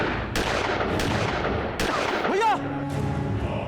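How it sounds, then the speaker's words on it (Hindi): Gunshots ring out in a Crime Patrol crime drama scene, three sharp loud bangs spaced about a second apart with echoing tails, followed by a brief shout and a whooshing sweep. "मैंने मौका पाते ही विवेक पे गोलियां दाग दी"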